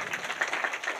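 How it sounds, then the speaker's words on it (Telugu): Congregation clapping along during a church service, a dense run of hand claps filling the short moment at moderate loudness with no voices over it. "చప్పట్లు కొట్టండి"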